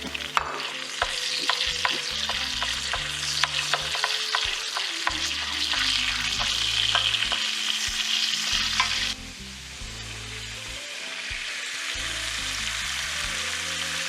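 Garlic sizzles loudly as it hits refried beans frying in a pan for a Veracruz-style frijoles refritos, with steady crackling, stirring scrapes and clinks, easing slightly toward the end.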